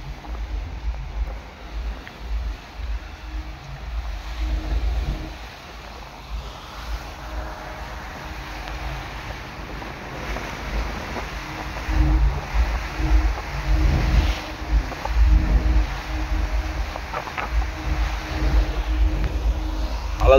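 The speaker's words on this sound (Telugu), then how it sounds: "అలలు చూడండి ఎలా వస్తున్నాయో" Ocean waves roll past a ship at sea near a container port at night, a soft washing surge under wind buffeting that grows louder and fuller in the second half.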